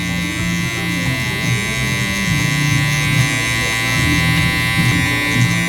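Electric hair clippers with a half guard cutting a taper fade, a steady close buzzing hum running continuously throughout with slight variations as the blade moves through hair.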